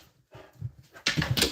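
A pet dog named Gracie whimpers and whines, then gives louder yelping barks, close by and rising in intensity over a short burst.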